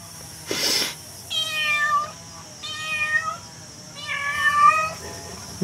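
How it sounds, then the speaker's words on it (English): A cat meows repeatedly nearby in a garage during a 2011 GMC Sierra oil change, drawn-out plaintive cries in three or four bursts over quiet background noise. "And there's a cat over there."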